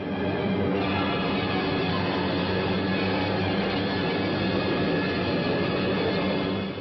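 Heavy, steady drone of WWII bomber aircraft engines in flight, a loud continuous roar holding level for the full stretch with no talking.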